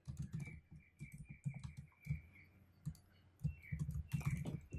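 Quick bursts of close computer-keyboard typing as a popup title is entered, with irregular clusters of keystrokes and short pauses between them, no voices.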